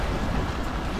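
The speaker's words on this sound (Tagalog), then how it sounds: "Malakas ang alon" Strong ocean waves wash and roar up close at a spearfishing spot, a dense, steady surge with wind buffeting the microphone, with no voices.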